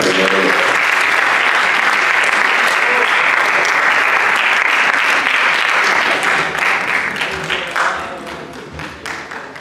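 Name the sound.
audience applause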